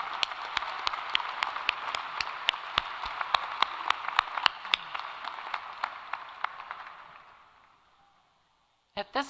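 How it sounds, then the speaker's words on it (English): A convocation audience applauds graduates and their loved ones: many crisp, distinct claps over a dense wash, fading out to near silence before two brief sounds close the clip. "I would like to again invite our graduates to join me in a round of applause"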